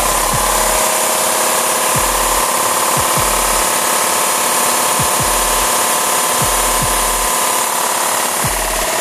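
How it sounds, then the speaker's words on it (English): A 60 gallon air compressor runs with a loud, steady droning hum, joined by low periodic thumps roughly every second or so, close and continuous, with no speech. "I think it's just having a hard time starting back up. So we're gonna try it again. And let's see if it can crank up."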